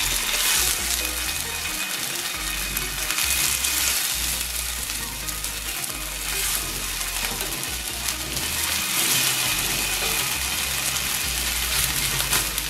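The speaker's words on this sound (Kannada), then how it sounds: "ಮೀಡಿಯಂ ಉರಿನಲ್ಲಿ ಹೊಂಬಣ್ಣ ಬರೋವರೆಗೂ ಶಾಲೋ ಫ್ರೈ ಮಾಡ್ಕೋಬೇಕು" Jowar rava kadubu shallow frying in oil over medium heat, a loud, steady, continuous sizzle with no pauses and no talking.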